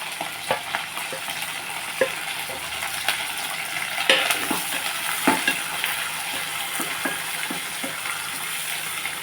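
Sliced onion frying in a pan with green chillies, a low steady sizzle punctuated by regular light clicks and taps of a stirring spoon against the pan.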